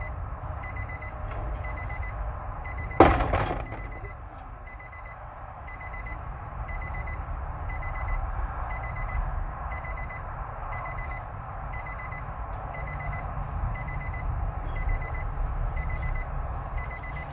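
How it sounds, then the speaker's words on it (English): Repeated electronic beeps pulse steadily through the whole stretch at moderate level, a periodic alarm-like tone over a low background hum, with one sharp loud click or knock near the start. "Sorry about the beeping"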